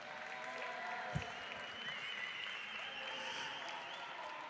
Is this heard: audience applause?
yes